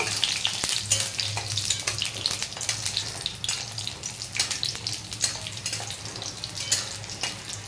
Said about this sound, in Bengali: তেল গরম হয়ে গেছে, এবার দিয়ে দেবো ডালের বড়িগুলো। ভালো করে ডালের বড়িগুলো একটু নাড়িয়ে চাড়িয়ে নেব।